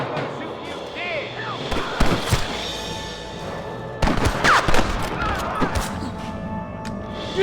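Gunfire in the Red Dead Redemption video game: a few sharp shots ring out around a steady backdrop of game sound, with louder bursts partway through, while voices can be heard.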